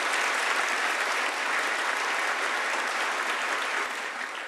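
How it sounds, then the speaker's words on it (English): A studio audience claps steadily, a dense and even burst of applause that holds at full strength from start to finish with no talking over it. "Audience, give yourselves a round of applause."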